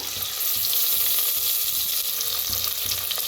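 Sliced onion frying in ghee in a pot, a steady close sizzle that keeps up at an even level throughout with no voices.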